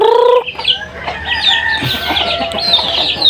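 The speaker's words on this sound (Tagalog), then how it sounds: "Ito yung mga manok na aking mother." Rhode Island hens cluck loudly and close by, with a rooster's crow cutting off at the start and several birds chattering over one another in a busy yard.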